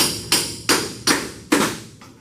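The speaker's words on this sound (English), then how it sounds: "Hammer and a pry bar." A hammer strikes a pry bar against the body bolts of a 1931 Ford Model A, giving four loud, sharp metallic blows spaced about a second apart, then a fainter fifth tap, each ringing briefly.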